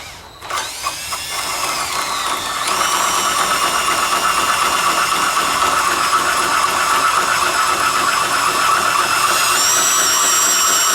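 A tube notcher cuts and notches steel tubing for a roll cage in a Pontiac C10 truck, a steady loud whining grind with ringing metallic overtones that runs continuously after a brief start-up.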